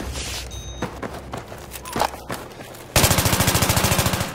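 Gunfire in Battlefield 3: scattered single shots and distant pops give way to a loud, close automatic burst of evenly spaced rapid rounds near the end.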